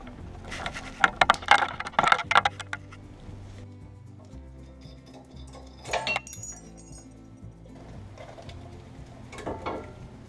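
Brake calipers on a 2005 Mustang clink and jangle as they slide out of the caliper bracket, a bright cluster of metallic knocks followed by a few lighter taps nearby.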